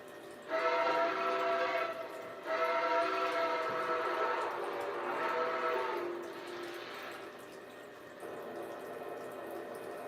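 A deep, chime-like steam locomotive whistle blows in several long blasts with brief breaks between them, loud and sustained over a steady hiss.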